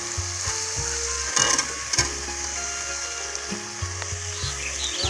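Potatoes sizzle in hot oil in a pan while a village-style soybean dish is cooked, a steady close frying hiss with a few clinks of a stirring utensil.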